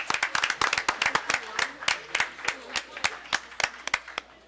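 Audience applause at a town board meeting, dense rapid clapping from many hands filling the room, steady and fairly close with sharp individual claps standing out.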